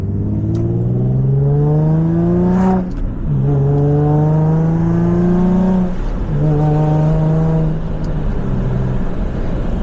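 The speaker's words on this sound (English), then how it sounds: "What a great sounding car, dude." A modified Infiniti G35 engine revs up in three rising pulls while driving, with a gap between each gearchange. The tone is loud, close and steady, with no talk over it.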